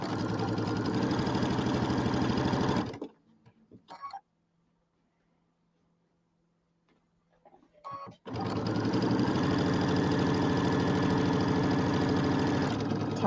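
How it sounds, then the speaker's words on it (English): A sewing machine runs in steady, loud bursts while stitching cotton quilt pieces with a scant quarter-inch seam. The machine stops for several quiet seconds, with brief handling clicks, then starts again. "Get these sewn together"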